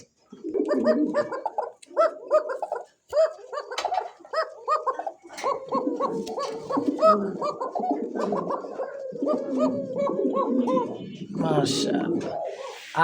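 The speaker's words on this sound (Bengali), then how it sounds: "কবুতরগুলো যে এতটাই ডাকতেছে" Several pigeons coo in repeated throaty bursts close by, while people talk over and between the calls.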